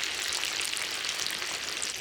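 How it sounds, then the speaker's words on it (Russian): Meat frying and being stirred in a pan for Crimean Tatar shepherd soup, a steady close sizzle with broadband crackle running unbroken throughout, no voices. "Вот когда мешаешь вот так мясо жаришь"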